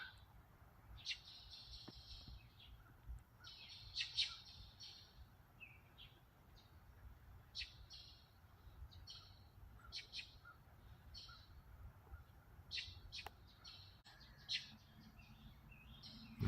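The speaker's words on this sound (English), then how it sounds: "the birds waking up." Birds chirp and trill at dawn in short, repeated bursts at a distance, with a soft outdoor hush between calls.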